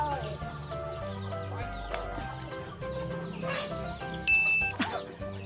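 Chickens clucking at a rural Vietnamese farmyard feeding time, with ducks nearby; a steady scatter of close clucks and squawks runs throughout, with a sharper burst near the end.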